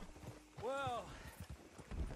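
A horse in the Red Dead Redemption 2 video game, hooves clip-clopping in a quick rhythm while a horse neighs once, heard under players talking over the game sound.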